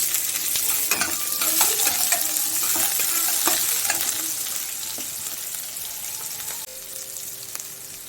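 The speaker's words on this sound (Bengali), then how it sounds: "দিয়ে একটু ভেজে নেব। একটা ছোট সাইজের পেঁয়াজ দিয়ে দেব।" Small chopped onion frying in a pan with a steady close sizzle, punctuated by repeated scraping clicks of a spatula stirring, the frying fading slightly toward the end.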